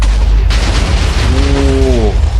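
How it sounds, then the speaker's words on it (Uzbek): A sudden booming Minecraft TNT blast followed by a rumbling wash of noise, then a brief low, droning groan near the end. "Portlaydi."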